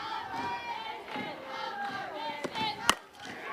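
A softball crowd at Oklahoma State versus Kansas chants and cheers together in rhythmic, loud waves, with a few sharp claps or bat-like cracks standing out near the end.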